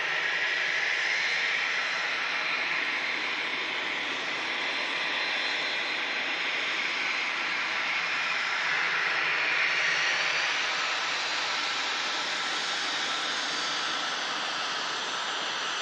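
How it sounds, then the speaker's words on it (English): Business jet arriving at Manchester Airport, a continuous broad jet roar that stays steady and fairly loud throughout, heard from a distance with no voices over it. "Beautiful BizJet arriving in Fenham."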